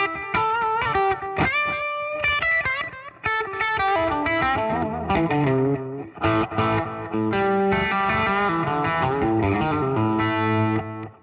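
Electric guitar played through a BOSS DM-2W Waza Craft delay pedal, chiming chords and single-note runs trailed by repeating echoes, loud and continuous with no talking.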